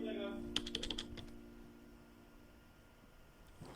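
Password being typed on a computer keyboard: a short burst of quick keystroke clicks in the first second, then a faint room hiss, with a final soft tap near the end.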